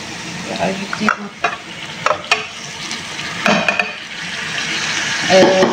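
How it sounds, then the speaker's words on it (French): Close, loud sizzling of rice frying in a pan with oil and salt, broken by repeated scraping stirs of a utensil against the pan, with faint talk in the background. "Je suis en train de le griller avec un peu d'huile et un peu de sel."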